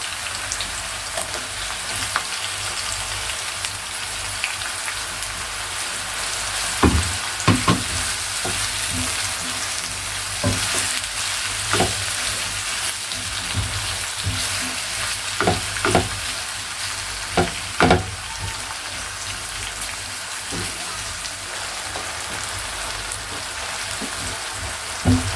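Vegetables with tomatoes are stir-fried in a pan, giving a loud continuous sizzle with scattered scraping and tossing sounds from the utensil, heard close up with no talking.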